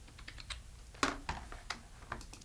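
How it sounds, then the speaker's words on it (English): A computer keyboard is tapped in a quick, uneven run of five or six crisp key clicks, one sharper press near the middle, with no talk. "holding down Control, and hitting the minus key"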